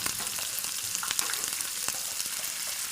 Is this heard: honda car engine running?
no